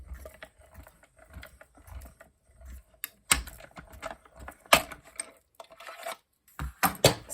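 A hand-cranked die-cutting machine is cranked gently, giving off a run of soft, irregular clicks and ticks with a few sharper clacks as the plates pass through.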